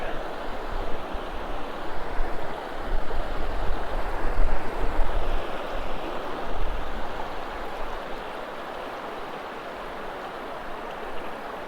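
The Paria River flows through a narrowing Arizona canyon as a steady rushing wash of water, louder at first and then settling to a softer, even murmur, with no one talking.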